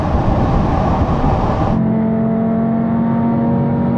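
An Audi hot hatch in a drag race video game accelerating hard, its loud engine roar running for under two seconds before cutting off abruptly into a quieter, steady whine.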